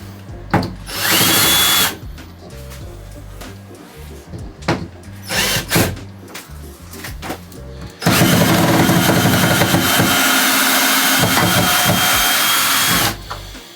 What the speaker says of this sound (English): You're going to need a drill